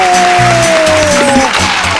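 Studio audience applause on a children's TV show, a loud continuous clatter of clapping, with a sustained tone and low musical thumps running beneath it.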